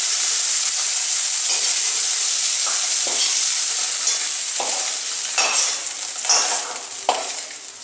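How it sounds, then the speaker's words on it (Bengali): Small mourola fish shallow-fry lightly in oil, a loud bright sizzle running throughout, broken by several stirring or turning scrapes toward the end, with no talking. "এখানে আমি খুব হালকাভাবে এটা ফ্রাই করব"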